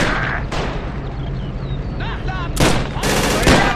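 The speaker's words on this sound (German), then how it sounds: "Auf den Panzer schießen!" Gunfire aimed at a tank in Men of War: Assault Squad 2 during a German village defense, with sharp rifle and machine-gun bursts, loud cracks near the end, and battlefield shouting and music underneath.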